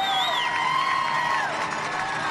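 A large roadside crowd cheers and whoops continuously at a professional cycling race in Denver, a dense, steady roar with shrill individual shouts rising above it, loud and unbroken throughout.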